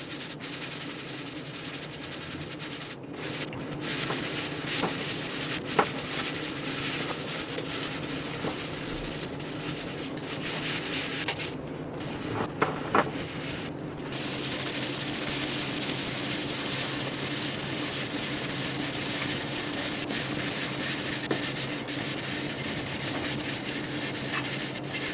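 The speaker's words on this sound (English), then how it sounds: "I'm going to sand back on this drum, sand back on this drum, wet sand this drum" Wet and dry sanding on a DIY wooden stave drum shell of glued-up staves, heard as a steady, continuous abrasive rubbing and hiss that keeps going for the whole stretch with only brief pauses.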